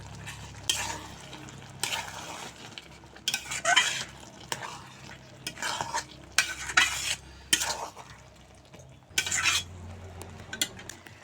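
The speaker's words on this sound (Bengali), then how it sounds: "সর্ষে পুস্ত দিয়ে টমেটোর সঙ্গে ভালো করে মিশিয়ে নিয়েছি" A spoon stirs mustard and poppy seed paste into tomatoes in a pan for a potato and green tomato curry, repeated scraping strokes in bursts over a low sizzle, close and fairly loud.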